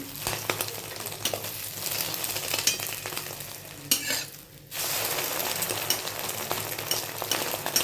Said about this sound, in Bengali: এবার ডিমটাকে 3 ভাগে ভাগ করে অল্প অল্প করে ছেড়ে দেবো।